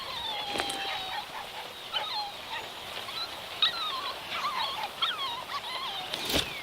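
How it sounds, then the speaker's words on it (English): Puppies whimper in The Flame in the Flood video game, a string of thin, high, wavering cries repeating close by over a soft ambient bed, with no talking. "And oh, look, more puppies!"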